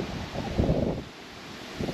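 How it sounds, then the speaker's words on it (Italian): Strong wind gusting through a green park outdoors, a rough low rumble of buffeting against the microphone that swells in the middle and again at the end, with no talking. "c'è questo parco dove sta soffiando un vento"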